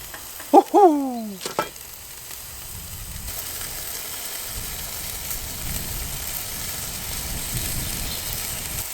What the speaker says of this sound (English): Hear them sizzling